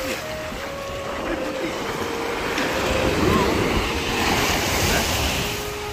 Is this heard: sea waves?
yes